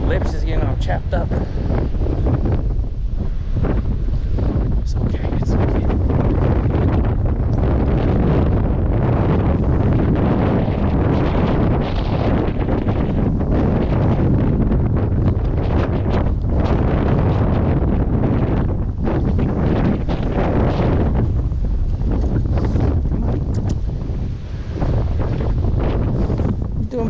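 Strong, gusty wind by a whitecapped lake batters the microphone as a continuous loud roar that buffets unevenly and almost never lets up.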